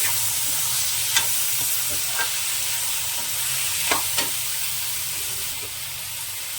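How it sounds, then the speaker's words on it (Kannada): Paneer frying in a pan, a continuous soft sizzle with a few brief stirring scrapes and clicks scattered throughout, close and alone. "ಫ್ರೈ ಮಾಡ್ಕೋಬೇಕು."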